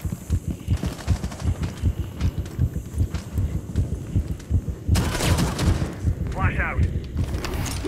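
A heavy, rhythmic heartbeat thump from the adrenaline surge ability in Rainbow Six Siege pulses steadily up close, then gives way to a burst of gunfire and harsh in-game noise.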